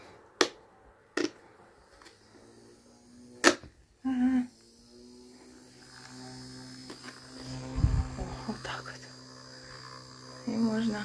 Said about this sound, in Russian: Купила на работе такой вентилятор. Он работает от пауэрбэнка.